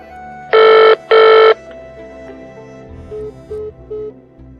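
A phone call rings out in two loud, close trilling bursts, then cuts off, leaving a few faint short beeps over a quiet hum.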